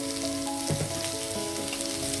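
Tempering spices sizzle in hot oil in a pan as turmeric goes in while tamarind rice is made, a steady close frying hiss with a brief stir midway.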